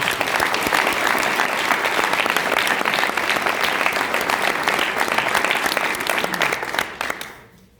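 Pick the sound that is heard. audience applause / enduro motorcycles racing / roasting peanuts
audience applause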